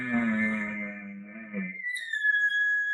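Imitated elk bugle blown through a call tube with a lip ball: a low growling tone rises into a long, high, thin whistle that fades out, close and loud, with no talk.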